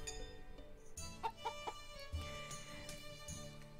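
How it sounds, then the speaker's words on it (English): Faint clucking from chickens in the farming video game Story of Seasons: Pioneers of Olive Town, a few soft calls scattered over steady background game music and tones. "Chickens. Everyone's coming out to play."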